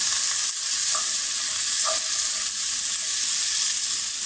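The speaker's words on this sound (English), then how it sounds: "So we throw in the veggies." Vegetables hit hot oil in a pan for steak Mexicana, a steady, close, loud sizzle that holds evenly throughout with no voices.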